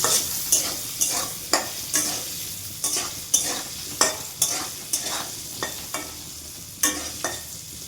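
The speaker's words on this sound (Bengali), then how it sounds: "আলুগুলির মধ্যে নুন হলুদ দিয়ে দেবো। লাল লাল করে ভাজবো।" Potatoes fry with salt and turmeric in a hot pan, sizzling steadily under a dozen or so sharp, rhythmic stirring scrapes from a utensil, close and clear with no talking.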